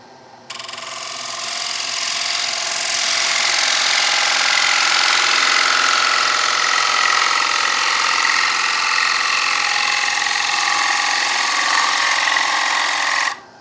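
A woodturning lathe spins as a tool trims a square wooden plate, giving a steady loud buzzing, rasping drone that starts abruptly and holds for over ten seconds before cutting off.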